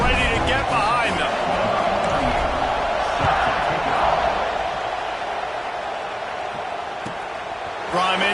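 College football stadium crowd at the kickoff of Miami versus Alabama, a broad, sustained roar with swells of cheering that stays under a commentator's continuous voice.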